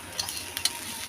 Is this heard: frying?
yes